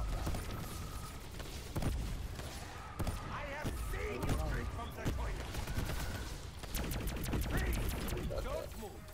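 Rapid bursts of video game gunfire crack out repeatedly, with loud individual shots and quick volleys scattered across the clip, under a steady layer of game noise and a voice talking.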